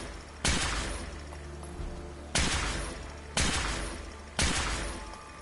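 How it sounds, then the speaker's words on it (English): Gunfire in Fallout 4 crashes in four loud separate bursts about a second or two apart, each sharp crack decaying into a rumbling tail over a low steady background, with no talking. "Oh, hold on, they're shooting back at me."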